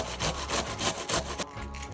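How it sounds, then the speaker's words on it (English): A kitchen knife shreds cabbage leaves for a sugar-free coleslaw in a quick series of about half a dozen rhythmic rasping strokes, close and clear, with no talking. "I'm gonna use my knife to shred them"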